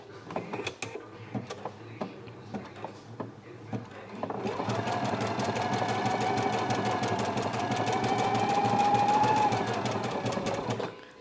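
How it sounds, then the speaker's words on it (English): After a few scattered clicks and knocks, a Husqvarna Viking Epic 980Q sewing machine starts stitching a buttonhole with the manual presser foot, a steady, rapid, close mechanical whir and needle patter running for several seconds. "Okay, so now I'm going to start sewing."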